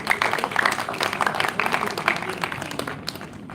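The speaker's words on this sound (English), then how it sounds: "Please give her a round of applause." An audience at a World Hand Hygiene Day event gives a round of applause, with steady dense clapping that fades slightly toward the end.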